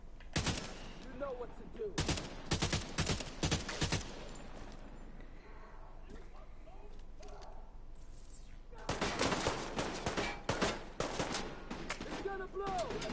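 Gunfire in The Division 2 comes as rapid, loud bursts of automatic shots in two heavy clusters with a quieter stretch between, while someone speaks briefly over the game sound.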